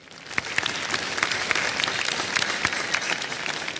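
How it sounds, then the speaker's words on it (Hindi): Studio audience on an Indian television quiz show applauds steadily, dense clapping that swells in the first half second and holds loud and even to the end, with no voices over it. "और इस पे भी तालियां बज जानी चाहिए."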